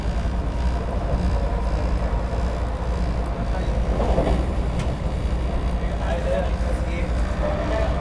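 Vande Bharat Express running at speed through Sonipat Junction, heard from on board as a continuous loud rumble with rattling and wind rush, steady throughout.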